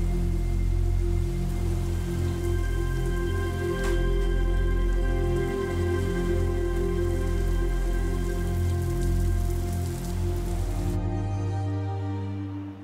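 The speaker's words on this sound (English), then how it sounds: "a sudden downpour hits Shanghai" Heavy downpour in Shanghai, a dense steady hiss of rain pouring onto surfaces, loud and continuous, easing slightly near the end, with no talking.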